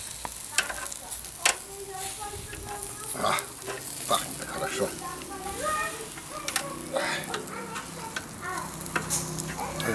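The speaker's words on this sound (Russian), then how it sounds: "Сейчас будем жарить. Уже жарится." Shashlik meat sizzles and crackles on a grill with scattered pops and clicks, while a voice speaks briefly in Russian over the frying.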